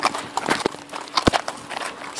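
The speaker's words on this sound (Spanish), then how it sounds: "la primera vez andando a caballo solo" Horse walking with a child riding alone for the first time, hooves clip-clopping in an irregular outdoor rhythm, fairly close, with a few sharper hoof strikes.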